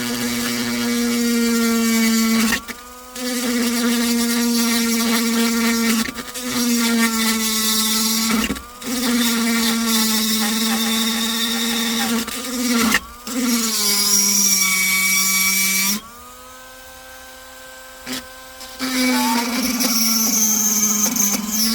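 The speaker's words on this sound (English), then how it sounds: "switch back over to the drill" A steady whining power drill runs in long bursts while installing A-pillar grab handles in a Jeep, pausing briefly between them, with pitch dipping slightly as it loads; loud and close, no talking.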